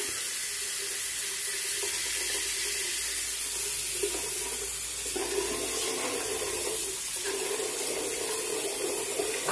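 Hot water runs steadily from a tap into a sink while preparing for a shave, a continuous close splashing stream with slight changes in tone as the flow hits the basin.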